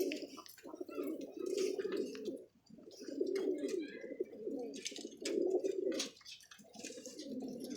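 Pigeons coo in repeated low, rounded phrases with brief pauses, close and fairly loud in a loft setting, with faint background noise between calls.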